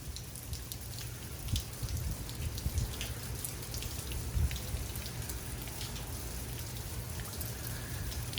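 Steady rain falls during Hurricane Delta's landfall in Louisiana, a dense continuous hiss of drops with occasional louder patters and a low rumble of breezy wind underneath, holding at an even level throughout.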